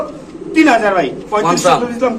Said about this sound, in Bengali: কবুতরটা অনেকক্ষণ ধরে ডাকতেছে